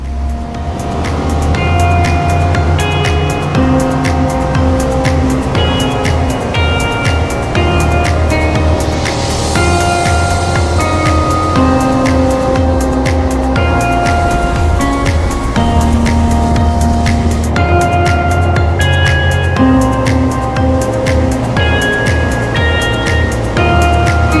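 A Southport 33 DC boat runs at speed on a sea trial, its engines droning loudly and steadily while the hull slaps and splashes through waves and wind.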